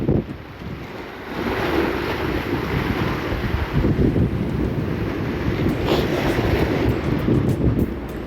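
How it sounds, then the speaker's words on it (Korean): Strong wind roars across the sea off Geumodo island during a black porgy fishing trip, a steady loud buffeting rush with gusts battering the microphone, and no voices. "아이고 오늘도 바람이 바람이 무섭습니다"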